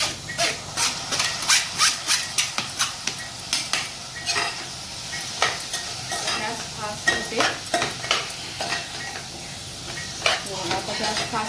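A wild leafy vegetable is tossed into spiced oil in a pan and stirred, giving a steady sizzle under rapid, repeated scraping and clinking of a spoon against metal, close and fairly loud, with no voices.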